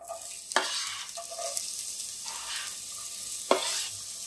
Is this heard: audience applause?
no